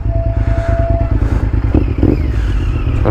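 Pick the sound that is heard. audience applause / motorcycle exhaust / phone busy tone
motorcycle exhaust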